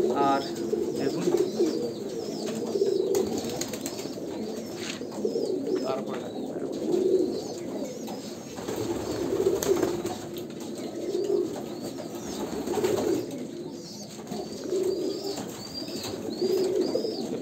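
A flock of Andhra pure-bloodline Kalanka pigeons cooing steadily and close by, low rhythmic coos overlapping continuously with occasional wing flaps, and a few faint voices in the background.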